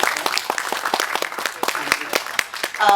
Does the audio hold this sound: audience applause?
yes